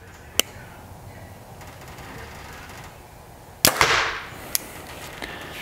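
A Hoyt compound bow shot, with a sharp release crack followed by a louder thump as the arrow strikes a target with a cushioned back wall, then a couple of faint clicks. Nearby and otherwise quiet.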